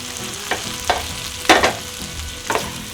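Chicken sautéing in butter with masala for a creamy white murgh malai dish, a soft close sizzle broken by a few scraping stirs of a spoon against the pan, with no voices.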